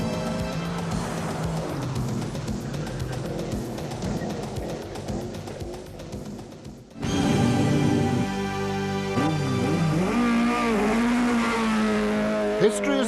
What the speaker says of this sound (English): Bertie Fisher and Rory Kennedy in the Tough Mac Subaru are in a class of their own